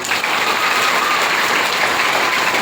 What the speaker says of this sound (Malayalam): സന്തോഷത്തോടുകൂടി ഒന്ന് കൈയടിച്ച് എല്ലാവരും.